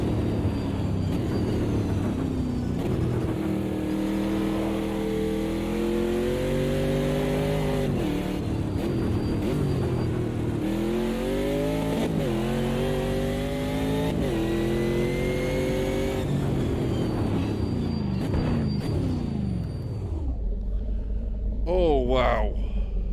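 A Chevrolet race car in Automobilista 2 on the Nürburgring Nordschleife revs loudly, its engine pitch rising and dropping through repeated gear changes, then settles into a crackling, burbling idle near the end.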